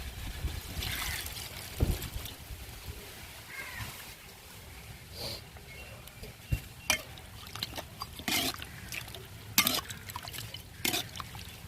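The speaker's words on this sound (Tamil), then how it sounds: "தண்ணி ஊற்றிக்கிறோம்" Water pours into a pan of urad dal, dried chilies and curry leaves while a chicken roast is cooked, giving a soft, steady trickle and splash broken by a few sharp clinks of utensils against the pan.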